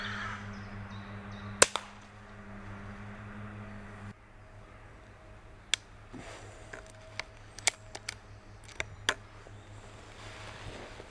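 A Crosman 2250 XL airgun fired at a squirrel outdoors: one sharp, close crack near the start over a steady low hum, followed by scattered lighter clicks and taps.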